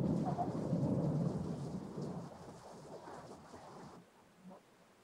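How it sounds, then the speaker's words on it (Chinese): A heavy downpour roars with deep rumbling thunder, loudest in the first seconds and then easing to a quieter patter of rain toward the end. "可面对这样的瓢泼大雨"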